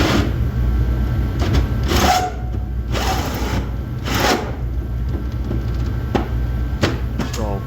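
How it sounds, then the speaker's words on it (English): A 4-inch hole saw cuts through a 2016 Ford F-150 truck bed while a gooseneck hitch is installed, giving a grinding, rasping drone with short louder bursts. Talk runs over it. "Now we've got a 4-inch hole saw."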